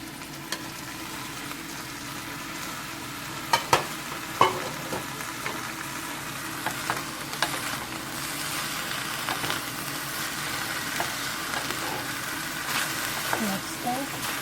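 Tomatoes sizzle in a pan for Bhutanese ema datshi, a constant frying hiss with scattered clicks and scrapes of stirring, and a voice occasionally heard.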